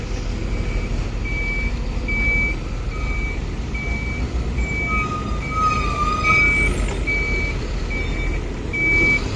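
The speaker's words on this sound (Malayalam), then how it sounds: "മണ്ണ് തട്ടാനായിട്ട് റിവേഴ്സ് അടിച്ച് വരുന്നുണ്ട്." A truck reverses at a construction site to dump soil, its reversing alarm beeping steadily at an even rhythm over a continuous low engine rumble and outdoor noise, with no talk.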